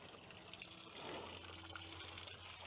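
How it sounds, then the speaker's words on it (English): A garden hose dribbles a thin trickle of water into a 50-litre fresh water tank being flushed out, giving a faint, steady wash of running water with no voices. "So I had the hose running on here, just a dribble in there"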